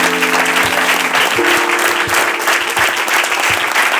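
Steady, loud applause from an audience at a reading-tour event in Santa Coloma de Farners, dense clapping running the full length, with a faint hum and some tonal sustained sound underneath.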